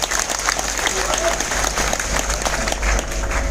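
Audience applause at a business plan meeting in Ahmedabad, a loud burst of crowd clapping with murmuring voices mixed in and a low hum underneath.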